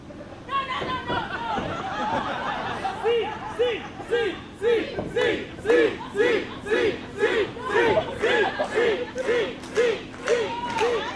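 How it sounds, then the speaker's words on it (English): A women's wrestling crowd chants rhythmically for Thunder Rosa, dense voices swelling into a steady, evenly spaced chant that grows louder and more regular as it goes on. "the crowd just loves Thunder Rosa"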